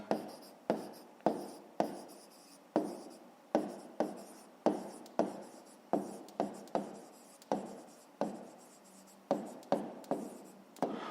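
Pen or pencil writing out a math solution on paper, heard as a steady run of short scratchy strokes, each starting sharply and trailing off, close up with no voice.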